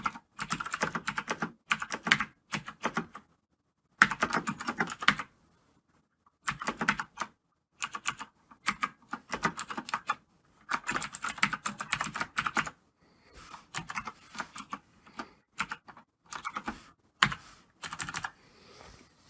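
Rapid computer keyboard typing while code is written, delivered in bursts of clattering keystrokes separated by short pauses, close and clear with no voices.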